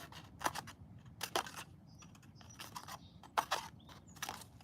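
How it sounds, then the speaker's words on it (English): Scissors snipping card pieces for a handmade card, a series of crisp, close cuts in irregular bursts with short pauses between them, fairly quiet. "So we're going to continue to cut these pieces."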